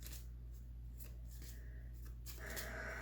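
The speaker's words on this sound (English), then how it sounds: "So what I'm doing is just shuffling each little pile, and if any cards fall out, I'll take them" Tarot cards are shuffled by hand in small piles, giving soft riffling and sliding bursts over a low steady hum, with a louder flurry of card noise at the end.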